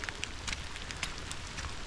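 Steady rain falls outdoors near horse stalls, a dense continuous patter with scattered sharper drops, close and even throughout.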